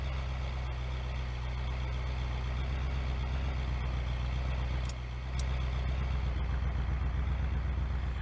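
An old motor in a car in BeamNG.Drive runs at a low, throbbing idle with a limited rev range, a steady deep engine drone that shifts slightly partway through.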